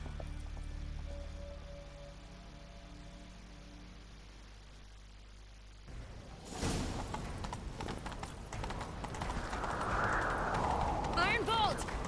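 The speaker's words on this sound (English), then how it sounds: "Grab a horse, we'll chase him down." A horse in The Witcher 3 breaks into a gallop midway, its hoofbeats a steady rapid clatter that grows louder and denser, after a quieter stretch of game ambience.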